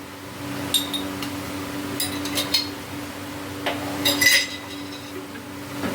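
Ice cubes are taken out and clink together in a few scattered bursts of light, glassy knocks against a low steady hum.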